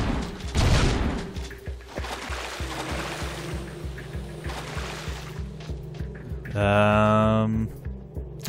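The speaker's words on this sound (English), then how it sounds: "Oh, that exploded!" A loud burst goes off near the start of a Jak 3 play session against metalhead creatures, followed by rumbling game action, a steady hum, and a harsh buzzing tone later on. Talk runs through it.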